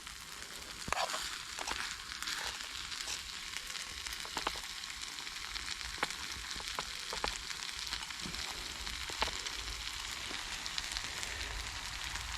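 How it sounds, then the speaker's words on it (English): Chicken, prawns, rice, chorizo and loads of veg sizzle steadily in a pan over a makeshift stove of old empty tins and loft insulation at a wet wild camp, a close, continuous frying hiss with occasional pops and no talk. "Chicken, prawns, rice, chorizo, loads of veg, all cooked on a couple of old bleeding empty tins and a bit of loft insulation"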